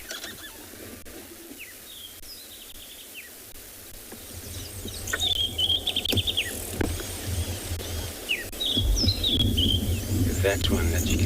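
A small ground bird that forages through grasses calls in short, high chirps and trills from an African safari setting, over a low rumble and insect hum, growing busier and louder toward the end.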